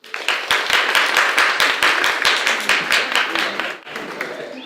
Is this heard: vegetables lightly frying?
no